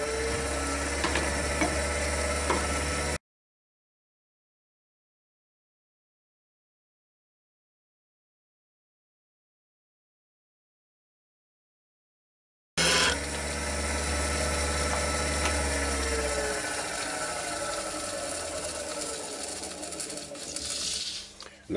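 A wood lathe spins an Indian blanket design bowl while an Ellsworth grind spindle gouge cuts the lip. A steady mechanical whir with scraping texture breaks off into a long silence, then resumes.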